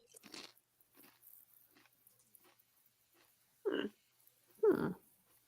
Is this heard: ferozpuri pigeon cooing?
no